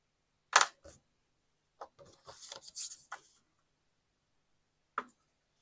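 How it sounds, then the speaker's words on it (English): Paper greeting cards being folded and creased by hand at a crafting table, a few short dry rubbing and scraping strokes separated by silence, close and fairly quiet. "All right, fold our cards."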